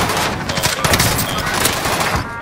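Rapid, dense gunfire in a war video game, loud bursts of automatic weapons crackling continuously through the short span, close and intense.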